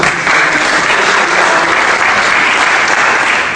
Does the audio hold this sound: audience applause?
yes